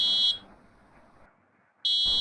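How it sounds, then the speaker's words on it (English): An Arduino piezo buzzer alarm in a temperature and humidity monitoring project, giving a shrill steady electronic tone that cuts off, leaves a quiet gap, then starts again. "you can also hear the buzzer sound"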